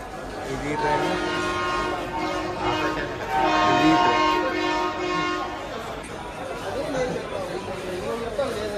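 A train rumbles past steadily, with a sustained horn sounding through the middle; indistinct chatter from people nearby runs underneath.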